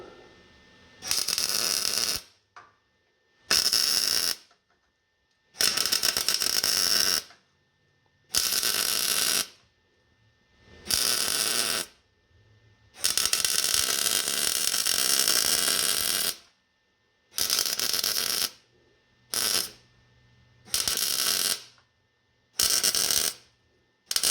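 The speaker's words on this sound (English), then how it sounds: "Okay, so let's weld it in now." MIG welding of a panel on a 1948 Chevy truck, heard as a series of loud, close crackling bursts of one to three seconds each, separated by short silent pauses.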